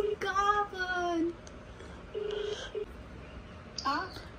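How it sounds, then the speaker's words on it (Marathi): Phone keypad tones sound in short beeping bursts while a call is placed, mixed with brief voices nearby, faint and close. "अरे यार कॉलिंग मातोश्री ललिता सातपुते"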